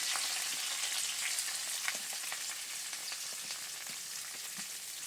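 Fenugreek seeds, curry leaves and green chillies frying in hot oil in a village-style kitchen, a steady close crackling sizzle with small pops throughout.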